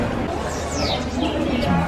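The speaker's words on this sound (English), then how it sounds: "Birds are making some creepy noises over here by the cafe" Strange, warbling bird calls with sliding pitches ring out by a cafe on Curaçao, over steady outdoor crowd murmur and background noise.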